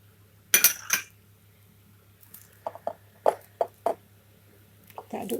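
A spoon stirs and scrapes a leftover rice mixture with fried shallots in a kitchen bowl, giving a few sharp clinks followed by softer, scattered taps and squishy scrapes under a low steady hum.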